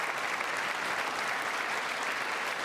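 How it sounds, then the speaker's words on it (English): Audience applause during a State of the Union address fills a large chamber with a dense, steady wash of clapping that holds unbroken at constant volume throughout. "Let's see if the Democrats clap for this one."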